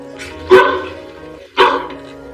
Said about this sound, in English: Rose brought a dog home from the supermarket.